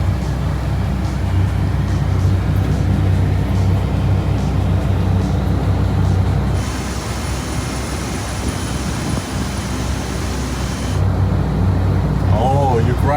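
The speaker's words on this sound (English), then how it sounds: "The air conditioning vehicle here, waiting to push back the JA out." An airport air conditioning vehicle running beside a parked aircraft on the apron, a loud steady engine and blower drone with a hiss that shifts midway, while people talk nearby.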